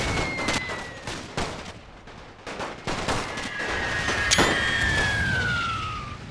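Gunfire from an officer and troops in The Great War: Total War, a World War One strategy game mod, cracks out in repeated sharp shots and short volleys, with whistling shells sliding across the battle noise at moderate loudness and no talking.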